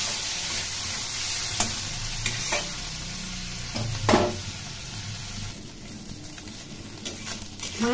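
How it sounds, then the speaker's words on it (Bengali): Small fish seasoned with salt and turmeric sizzle in oil while being stirred, a loud continuous crackling hiss broken by scraping stirs and a few brief clatters, no voices. "এখন ভালো করে মাছগুলো ভেজে নেব।"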